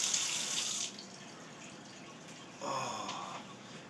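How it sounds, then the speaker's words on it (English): Hot water running from a tap at a sink during handwashing, a steady hiss that cuts off briefly and then resumes. "now I gotta wash my hands"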